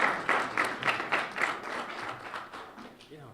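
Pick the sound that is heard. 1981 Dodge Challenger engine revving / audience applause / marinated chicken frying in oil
audience applause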